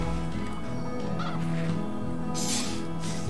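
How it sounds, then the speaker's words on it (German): Chickens in a farming video game cluck and squawk in short bursts over a constant background of game music, with a couple of louder, harsher calls near the end and no talking. "wir füttern einmal die Hühner"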